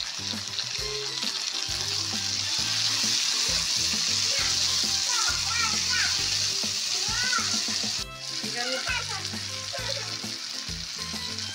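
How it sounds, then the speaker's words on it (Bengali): Ginger and green chili paste hits a pan of frying new potatoes, making a loud, continuous close sizzle with a brief dip partway through and faint background tones underneath. "এখানে আদা আর লঙ্কা, কাঁচা লঙ্কা বাটা দিয়ে দিলাম।"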